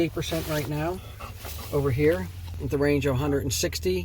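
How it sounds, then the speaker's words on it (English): A dog whines and whimpers in expressive, rising and falling yelps inside a Mustang Mach-E on a road trip, heard under someone speaking close by. "Excuse the dog talking in the background."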